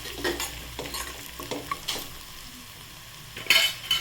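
Mashed brinjal with chili powder is sautéed in a pan, giving a soft sizzle under repeated scraping and stirring strokes of a spoon against the metal, close and fairly quiet.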